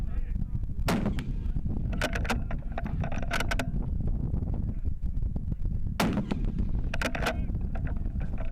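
Rifle shots at an outdoor positional shooting match, several sharp cracks spaced seconds apart over steady wind rumble, one pair early and another cluster later.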